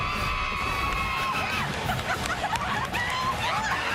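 A spirited crowd of about 15,000 cheers and whoops at a college football stadium in Ames, Iowa, a dense, steady roar with scattered shouts rising over the din.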